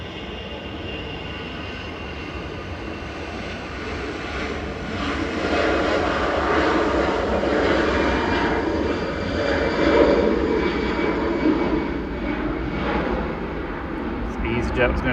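An EasyJet Airbus A320 departs Manchester Airport, its jet engines roaring in a sustained broadband rumble that swells midway and holds loud across the whole stretch, with a voice talking over it.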